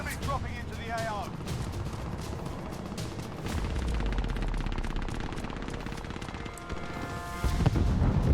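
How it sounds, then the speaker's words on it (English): Warzone gunfire cracks in short bursts and scattered single shots, some near and some distant, mixed with game noise while a voice talks over parts of it. "I hear shots."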